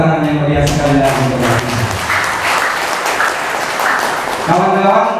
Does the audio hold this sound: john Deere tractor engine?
no